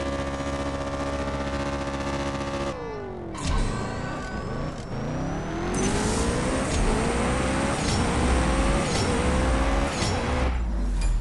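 Zenvo supercar engine in CSR Racing 2 revving and climbing through the gears, a loud continuous drone whose pitch sweeps upward repeatedly after a brief dip, with no voices.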